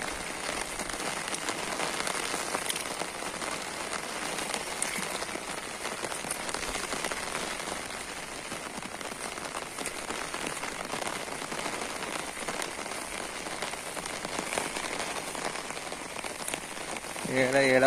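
Heavy rain pours steadily onto surfaces beside a fish pond, a dense continuous hiss that stays strong throughout with no talk.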